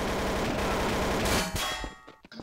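Video game gunfire rattles in a dense, loud metallic stream, then cuts off into a few scattered clanging shots that fade toward silence.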